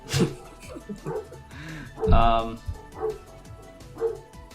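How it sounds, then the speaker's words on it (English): A dog yips and barks in short bursts just outside a door, faint and somewhat distant, mixed with whimpering sounds while a person talks nearby. "They're right outside my door barking."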